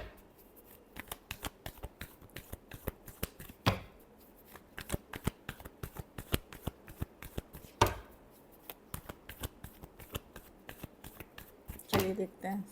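Tarot cards being shuffled by hand, a quiet, close series of crisp riffling snaps and soft flicks in irregular rhythm, with a few louder slaps along the way.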